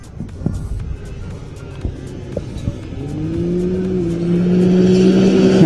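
An off-road race vehicle at the 2022 NORRA Mexican 1000 approaches along a road, its engine note climbing and growing steadily louder, with tire noise in the background.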